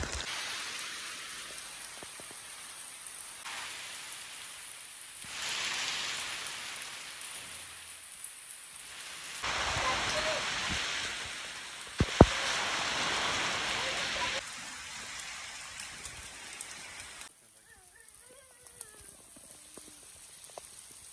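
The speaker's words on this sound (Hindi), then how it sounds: "नहा रही है इतनी तेज बारिश में" Heavy rain pours steadily on a goat farm, a loud hiss that swells and eases across the stretch, with scattered drips and a brief knock, and no voices.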